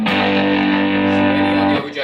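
An electric guitar chord rings through an MXR Duke of Tone pedal on its OD setting at medium gain, loud and sustained for almost two seconds before choking off, followed by a brief scrape.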